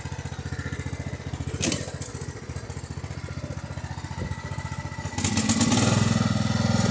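A Husqvarna weed eater engine running rich buzzes steadily and close by with a rapid, even pulsing. It swells louder and rougher for the last couple of seconds.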